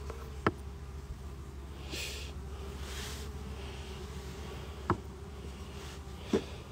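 Honeybees hum at a hive entrance with a reduced opening at an apiary, a low steady drone with a few sharp knocks and brief louder passes.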